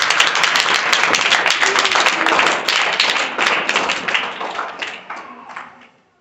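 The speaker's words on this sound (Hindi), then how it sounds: "ताली बजा दो" Students in a tuition class clap their hands in a quick burst of uneven, close claps that thin out and fade over about six seconds, with a few thuds mixed in.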